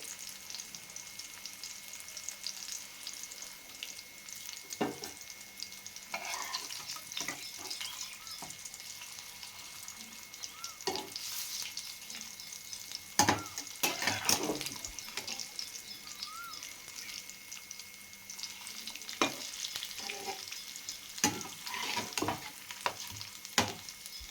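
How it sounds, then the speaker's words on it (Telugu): Masala-coated fish with semolina frying on a low flame, a gentle hiss of oil broken by intermittent utensil clicks and scrapes, quiet and close throughout. "సిమ్ములో పెట్టి ఫ్రై చేయాలండి."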